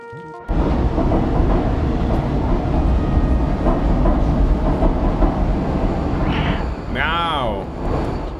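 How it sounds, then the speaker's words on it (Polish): A subway train rides through the video game Stray, giving a steady, loud rumble with rattling for most of the clip. Brief rising and falling tonal electronic sounds come near the end. "Nie najszybsze to metro, ale nie będę narzekał."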